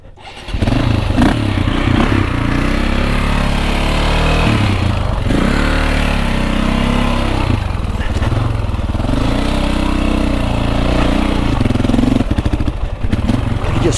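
A KTM 450exc dirt bike on a wooded single-track trail, its engine loud and close, droning then sputtering and dipping in pitch as it falters and nearly stalls, with brief cuts near the end.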